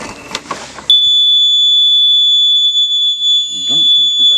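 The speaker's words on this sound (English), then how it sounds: "this has got an alarm to it as well" A Flymo 1200R robotic mower's anti-theft alarm suddenly begins a piercing, sustained high squeal after brief talk and handling noise, continuing loud and steady as a voice speaks over it near the end.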